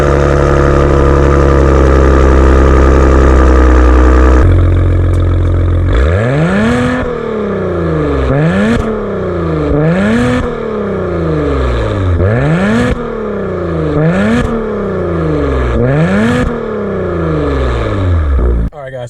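A 2021 Maserati Ghibli S Gransport V6 starts from a low idle, then is revved repeatedly in sharp, loud rising-and-falling blips, each climbing steeply before dropping back, close up and sustained.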